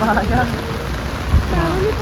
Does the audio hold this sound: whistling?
no